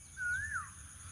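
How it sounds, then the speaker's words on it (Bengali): A single rising-then-falling bird whistle sounds once, moderately close, beside rice paddy fields with a faint low background hum. "দেখো পাখি ডাকছে।"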